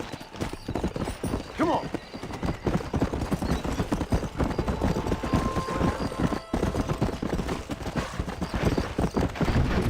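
Horse galloping in the Red Dead Redemption video game, rapid continuous hoofbeats with a whinny early on, steady and fairly loud under a rider's short spoken urging.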